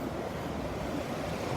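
Surf rolling in at a Gulf beach in winter at Delnor-Wiggins, with waves of about four feet breaking offshore in a steady, continuous wash, mixed with some wind noise on the microphone and no voices.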